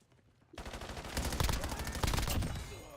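Rapid bursts of gunfire in Call of Duty, starting abruptly after a quiet moment and continuing as dense, loud, repeated shots with a rattling automatic rhythm.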